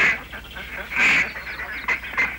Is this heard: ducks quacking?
yes